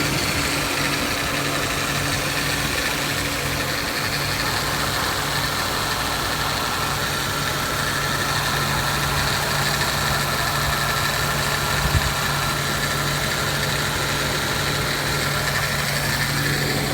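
A 1997 Honda CR-V engine idles steadily and close by, a continuous even rumble with a faint mechanical hum and no speech.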